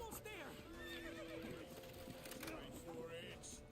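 A horse in The Witcher 3 whinnies repeatedly amid clattering hooves and busy game ambience, with voices calling out over the action.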